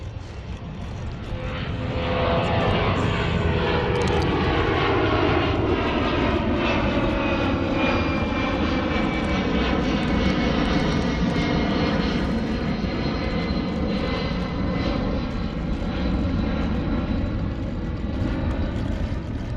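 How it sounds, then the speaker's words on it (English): A jet aircraft roars as it takes off near sand dunes between Marina del Rey and El Segundo, building from a rumble into a loud, sustained, broadband engine roar with a slowly shifting whine that continues for nearly twenty seconds. "Another jet taking off."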